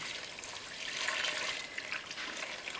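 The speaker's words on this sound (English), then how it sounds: "So let's get this water in." Water pours steadily into a pot of chicken stew, a bright splashing rush that swells briefly in the middle and continues without speech.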